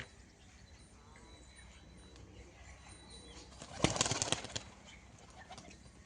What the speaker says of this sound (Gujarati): મિત્રો આ ડાળિયા ખાવા કબૂતર આવી ગયા છે।